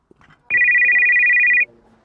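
A telephone ringtone signals an incoming call, a single bright electronic tone starting abruptly and holding steady for about a second before cutting off, loud and close, with faint rustling before it.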